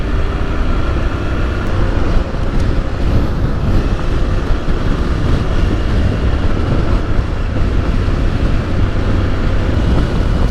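A 2020 Honda NC750X motorcycle is being ridden, giving a continuous, loud low engine rumble mixed with wind rush, steady and unbroken throughout.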